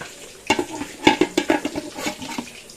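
Fish frying in a home kitchen pan: a soft, steady sizzle with a series of sharp clinks and scrapes from stirring, fairly close and with no talking.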